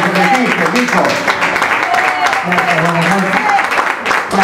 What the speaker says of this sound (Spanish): Para él el aplauso de bienvenida en esta noche de Taconeando